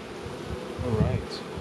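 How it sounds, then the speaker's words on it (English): Honey bees buzz at an opened beehive during a spring inspection, a close, dense droning hum that swells slightly midway through the short stretch, with no talking. "all those bees are going to be the first inhabitants of the new hive"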